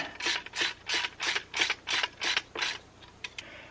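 A nut is turned down onto a bolt during a solar power electronics install, giving about eight close, rhythmic ratcheting bursts of metallic clicking, followed by a couple of short final clicks.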